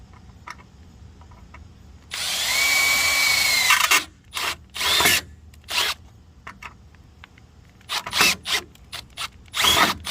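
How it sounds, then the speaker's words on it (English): A power drill with a small bit bores into the end of a crack in a metal trailer frame, starting with a steady two-second whine, then continuing in short repeated bursts of drilling. "Drill the end of the crack, find the end of it, drill it with a small drill bit"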